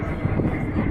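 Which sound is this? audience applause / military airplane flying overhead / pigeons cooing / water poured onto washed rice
military airplane flying overhead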